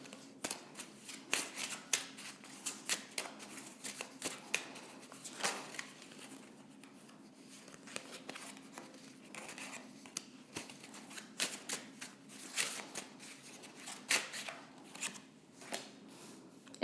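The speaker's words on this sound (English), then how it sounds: "That was a hard shuffle, I must say." Cards shuffle up close over and over, in rapid riffling bursts and soft snaps with short pauses between them. No one speaks.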